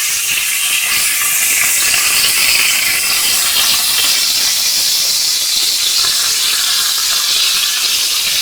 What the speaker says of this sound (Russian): Так, вот обжариваем с двух сторон